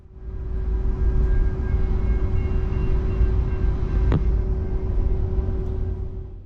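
Steady low rumble of a VIA Rail sleeper train pulling out of Truro station and rounding a curve, with a constant hum and a brief sharp squeal partway through; no voices.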